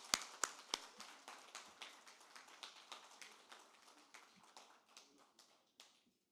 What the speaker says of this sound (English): We should really appreciate and clap for them